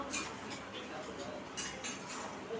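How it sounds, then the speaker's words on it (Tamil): A utensil stirs egg gravy in a cooking pan, giving a few faint, scattered clinks and scrapes of metal against the pan over a soft background. "நல்லா கிண்டி விட்டுருவோம்"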